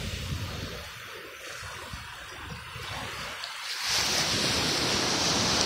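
Sea waves at high tide on a Gujarat beach wash steadily ashore, a continuous broad roar that swells louder toward the end, with some wind noise on the microphone.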